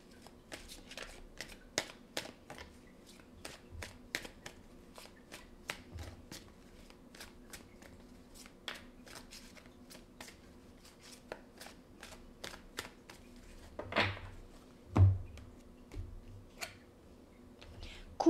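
Oracle cards are shuffled by hand during a love reading, a steady run of crisp papery riffles and light clicks, close and fairly quiet, with a soft thump near the end.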